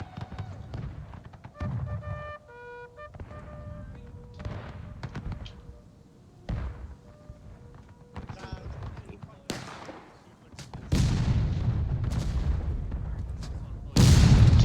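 Cannon artillery in the Civil War video game War of Rights, sharp booms and distant thuds firing at irregular intervals, some near and loud, others faint, with a commentator talking throughout.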